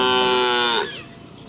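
A cow moos loudly and close by during karapan sapi bull-racing practice on a field at Asemanis, Pamekasan, one long harmonic call that drops off sharply near the end.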